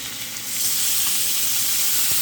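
Citrus liquid is drizzled into a pan of grilled fish, setting off a loud, steady hiss and sizzle up close that swells after a brief moment and holds without any talk.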